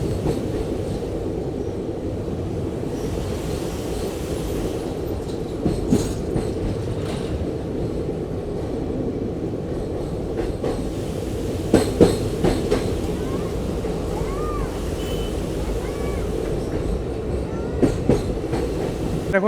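Teesta Torsa Express passenger train running on rails near Malda Town, a steady loud rumble of wheels and carriages continuing throughout with a few sharper clanks and rattles.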